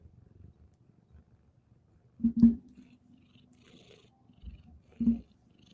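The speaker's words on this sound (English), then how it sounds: "Don't purr for them." A relaxed cat being petted on the neck purrs close to the microphone in two soft, rumbling bursts separated by near silence.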